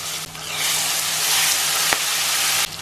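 A spice paste fries in hot oil with cinnamon and cloves, giving a steady close sizzle that is briefly broken by a stir or clatter near the middle, then fades out near the end.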